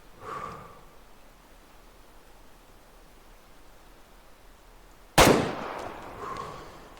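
A single loud 30-30 rifle gunshot from the hunting game Way of the Hunter cracks out sharply after a long quiet stretch, then rolls off into a fading echo with no talking.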